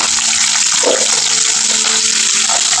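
Green chillies crackling as they fry in oil for idli upma, a dense continuous sizzle heard close and loud with a few faint pops, no talking.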